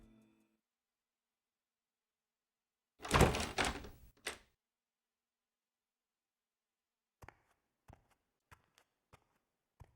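A door opens in AI: The Somnium Files with a loud scraping, rattling burst lasting about a second and a short thunk after it, followed later by a few sharp isolated ticks against silence.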